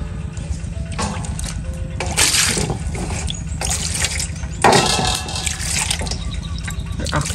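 Krasang (wood apple) fruit is washed in water at close range, with sloshing, dripping and trickling splashes over a continuous wet background, alone without talk.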